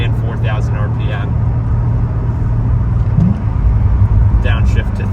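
A 2006 Chevy Corvette Z06 V8 engine rumbles loud and close from inside the car as it revs and pulls through the gears, with someone talking over the engine noise.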